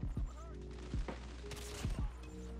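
Gunfire from the mobile shooter Call of Duty Mobile, several sharp close shots in an irregular burst pattern over a steady game soundscape with no talking.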